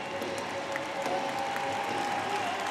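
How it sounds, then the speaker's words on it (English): Applause from the crowd at an ice hockey game between Glasgow Clan and Fife Flyers, a steady wash of clapping lasting a few seconds with a thin sustained tone running through it. "And a round of applause."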